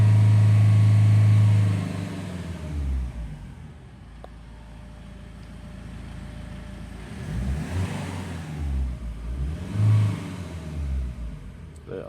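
Peugeot/Citroen diesel engine with a particle filter fault, held up at around 3,000 rpm and then dropping, with rising and falling engine drone recorded close by and talking over it.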